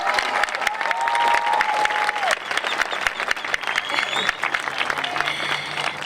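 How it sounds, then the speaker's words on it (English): Audience applause for the graduating class of 2022 at a high school graduation ceremony, a dense, steady clapping crowd that stays loud for several seconds, with some scattered voices and whistles mixed in. "I'm going to ask everyone to give the class of 2022 a round of applause"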